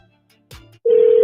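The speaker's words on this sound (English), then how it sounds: "The phone's ringing." A telephone rings with a single loud, sustained electronic ring tone, preceded by brief quiet clicks and a short low burst, near and clear with no talking.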